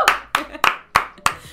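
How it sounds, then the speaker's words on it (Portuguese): Two people clap inside an office, five distinct, evenly spaced hand claps, close and dry, with short decays between them. "Dois maluquinhos a bater palmas dentro do escritório."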